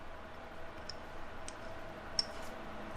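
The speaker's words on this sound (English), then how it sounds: "As you can see, it still clicks." A RideTech ShockWave air shock adjuster turned by hand, giving a few faint, sparse clicks spaced out over a quiet background hiss, with one sharper click near the end.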